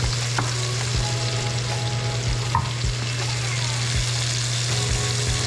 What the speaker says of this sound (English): Add more asparagus.